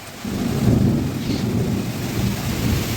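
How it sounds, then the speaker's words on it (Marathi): Heavy rain pours steadily during a thunderstorm with strong wind, a continuous dense roar with low rumbling thunder underneath and no talking. "विजांचा कडकडाट पाऊस जोरात खूप वादळ वारं"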